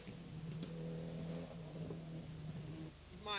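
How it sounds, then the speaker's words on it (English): Mitsubishi Galant rally car at the 1991 ADAC Rallye Deutschland, its engine holding a steady mid-pitched drone with a brief rev change near the end, fairly close and continuous throughout. "As we watch Jochi Kleint and Walter Schleicher in the Mitsubishi Gallant"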